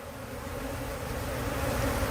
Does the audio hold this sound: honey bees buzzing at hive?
yes